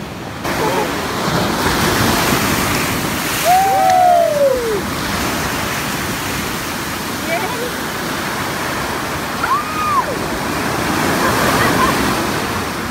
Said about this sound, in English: Are you at the ocean?